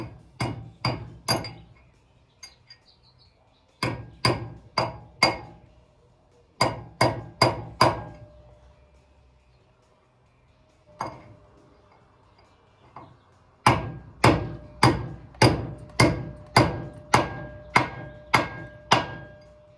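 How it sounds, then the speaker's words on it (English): Sharp metallic hammer pings in quick bursts of three to eight strikes, separated by short pauses, ringing brightly and close with no talking, as a hammer drives a bearing race into its seat on a Toyota solid axle. "you'll hear the hammer pings change pitch when that bearing is all the way seated"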